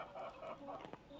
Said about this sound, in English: Do I hear pigs and chickens?